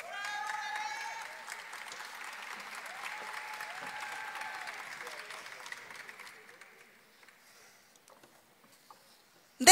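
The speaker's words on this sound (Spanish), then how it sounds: "Demos un cálido aplauso para los egresados de los programas de posgrado del Departamento de Ciencias Sociales." Warm applause for postgraduate graduates at a spring university graduation ceremony, sustained clapping from a large audience with a few cheers, tapering off into near silence.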